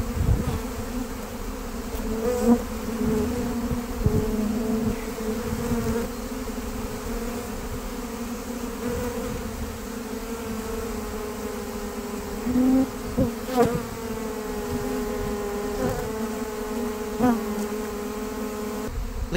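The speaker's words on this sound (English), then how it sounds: "lot of bees airborne. Look at this." A dense swarm of honeybees buzzes around a hive inside a mobile home in Davenport, Florida, a steady close drone with individual bees zipping past the microphone throughout.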